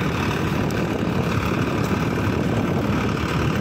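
A modified Ford 3610 tractor diesel engine runs at 1700 RPM, giving a loud, steady, close drone with no change in pace and no talk over it.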